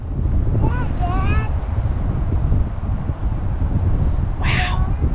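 Strong wind buffeting the microphone at a campground, a loud continuous rumble with crows cawing briefly, and a voice speaking over it.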